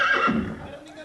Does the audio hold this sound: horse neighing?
yes